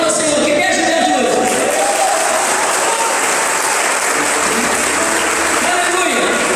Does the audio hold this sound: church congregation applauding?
yes